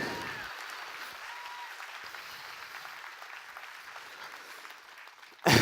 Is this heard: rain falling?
no